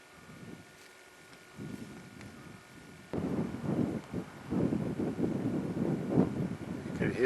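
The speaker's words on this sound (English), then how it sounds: "You can hear the wind." Wind blowing across a snowy mountainside in the Hoover Wilderness near Snow Lake and Kerrick Meadows, a low steady rush that strengthens into louder gusting roar after a few seconds and continues without pause.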